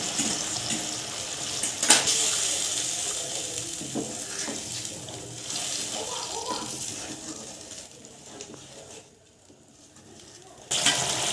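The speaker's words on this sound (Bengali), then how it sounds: "এবার গরম জল দিয়ে দেওয়া হলো একটুখানি।" Hot water poured from a vessel into a cooking pot of village-style water taro curry, a continuous splashing gush that briefly drops away near the end before resuming.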